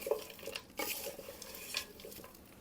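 Chicken biryani ingredients are stirred and mixed in a pot, with quiet scraping and a few light metallic clinks of a spoon against the vessel, plus a faint background sizzle.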